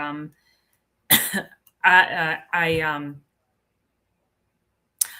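A person with a lingering cough gives a short cough, then a couple of harsher throat-clearing coughs, close to the microphone with quiet gaps between them.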